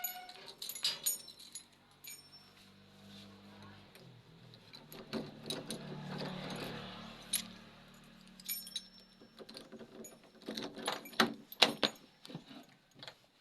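A bunch of keys jangles at home in short bursts of metallic clinks and rattles, louder toward the end, with quiet pauses between and a voice speaking briefly.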